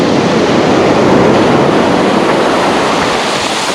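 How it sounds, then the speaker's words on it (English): Ocean surf at Point Reyes beach, loud and constant, a dense close roar of strengthening waves with no breaks and no voices. "with the waves getting stronger"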